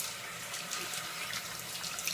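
Tap water runs steadily into a basin while a face is washed after a wet shave, a close hissing stream with no talking.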